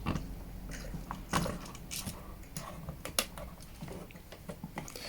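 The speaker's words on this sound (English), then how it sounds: "come up and undo the two screws on the main socket so we can remove the socket and take it apart" Screws being undone on a wall socket with a screwdriver, producing faint, irregular clicks, ticks and scrapes of metal and plastic, heard close up with scattered small taps and no talking.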